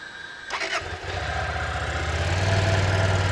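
A Hyosung or SWM motorcycle engine turns over and starts, then settles into a steady, low, quiet idle from a muted exhaust, close by and with no talking.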